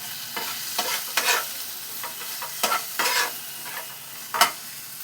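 Tomato fries in a pan with a pinch of salt, a quiet sizzle under a series of brisk spatula strokes scraping across the pan, about a dozen close, uneven scrapes.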